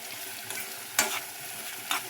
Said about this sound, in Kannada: ಎಣ್ಣೆಯಲ್ಲಿ ಬ್ರೌನ್ ಕಲರ್ ಬರೋವರೆಗೂ ಬೇಯಲಿ